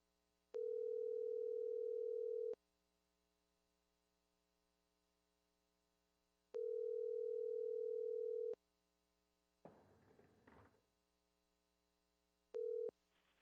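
Telephone dial tone on a phone line connected to a board meeting, long steady tones repeating with pauses over faint hum, broken once by a burst of static near the end.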